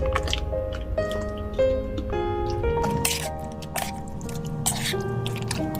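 Wet squishing and sticky, dripping sounds come up close as chicken is stirred into a thick green masala, soft and irregular, with no talking.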